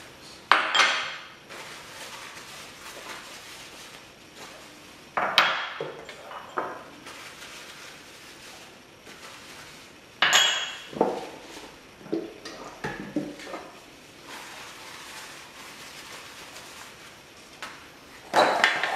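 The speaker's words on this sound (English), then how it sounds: "Just lightly rub each ramekin so that when it's cooked, it doesn't stick to the bottom of the ramekin." Ceramic ramekins being handled and rubbed with olive oil in a kitchen while preparing chocolate souffles: scattered close clinks and knocks of ceramic set down and picked up, with quieter rubbing and shuffling between them and no talking.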